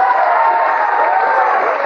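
A studio audience at a comedy show cheers and applauds in a short, dense burst to vote for a contestant, steady crowd noise with no single voice standing out.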